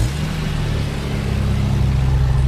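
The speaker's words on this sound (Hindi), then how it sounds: "गुल्ली और बुल्ली फ़ौरन गाड़ी लेकर उस जगह पहुँच जाते हैं" A car driving in an animated story, a steady low engine drone with a faint rev, continuous and fairly loud with no voices.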